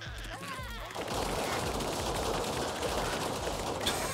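A big bomb goes off in the sandbox game Worldbox: a sharp blast gives way to a long, dense roar of rumbling destruction that holds loud and steady for several seconds.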